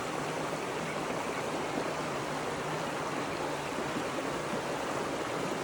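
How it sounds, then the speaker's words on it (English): A creek running over rocks, a continuous broadband rush of flowing water, close and steady throughout with no other sounds. "And the creek that you hear"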